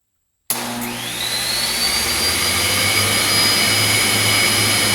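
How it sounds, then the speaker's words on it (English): Three window air conditioners and a miter saw kick on together from a 12 volt inverter, a sudden start that swells into a loud, steady whirring roar with a rising whine, heard close by. "let's see if we can start all 3 window air conditioners and the miter saw"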